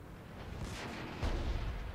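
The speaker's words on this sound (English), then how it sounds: "And there's the enemy artillery." Enemy artillery shells striking near a tank in World of Tanks, a pair of muffled booming impacts with low rumbling thuds, the second heavier, over a steady battlefield noise bed.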